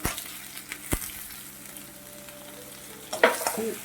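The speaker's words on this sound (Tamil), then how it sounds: "கொஞ்சம் லேசாக வதங்கிட்டு இப்போ நம்ம வந்து தக்காளி போட்டுருவோம்." Onions sautéing in a pan with tomatoes tossed in, a soft steady sizzle with a few sharp clatters and a louder stirring burst near the end, no voices.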